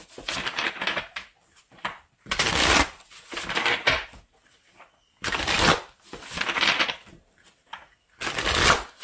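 Tarot cards are shuffled in repeated crisp bursts of riffling and sliding, close and clear, separated by short pauses.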